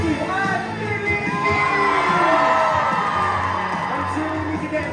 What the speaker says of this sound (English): cheer for our fearless captains, Mickey and Minnie!